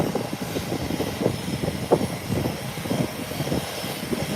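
A de Havilland Twin Otter at Howard Hamilton International Airport makes a steady propeller engine drone with a rough pulsing texture, moderately loud and continuous, with no talk.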